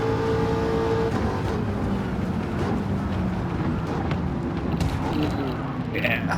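Eckert's Rod and Custom Mach Forty race car at Circuit de La Sarthe in the video game Gran Turismo 7, its engine droning loud and steady under held throttle, with a voice talking over it.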